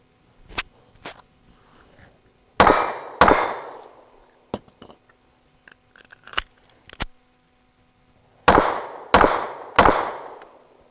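Sig P365 pistol fired at an outdoor range: sharp, loud reports in quick bursts, a few single shots then rapid pairs and triples, each with a short echoing tail and quiet gaps between.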